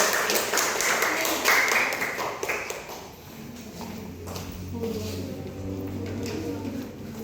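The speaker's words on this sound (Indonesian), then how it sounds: "Oke, tepuk tangan untuk teman." Classroom applause from primary school pupils for a classmate, a dense patter of small hands clapping for a few seconds before fading into murmured voices and shuffling.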